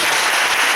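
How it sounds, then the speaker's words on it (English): A theater audience gives a brief, loud burst of dense clapping for a performer playing Father Scott, a full, steady roar of many hands. "We also have a big round of applause for His Holiness,"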